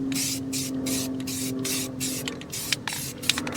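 An aerosol can sprays paint onto a primered battery tray from a Mercedes W124/C124, close hissing bursts in a steady rhythm of about eight short sprays with brief pauses, ending in a few clicks.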